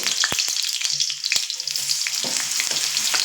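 Loud, bright sizzling of potatoes frying in hot oil, with scattered crackles and pops throughout.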